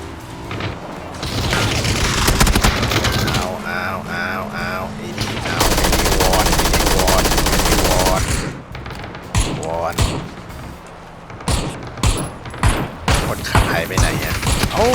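Loud, dense bursts of automatic gunfire from a vehicle in the battle royale game PUBG, rattling in long sustained volleys and then choppier spaced shots, with excited voices talking over it.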